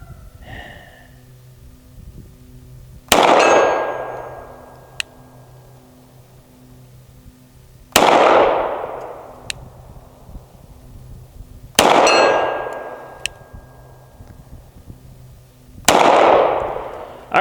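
Four loud pistol shots from a CZ P-07, each a sharp blast with a long decaying tail, a few seconds apart, with faint metallic rings of steel targets following some shots against a quiet outdoor background.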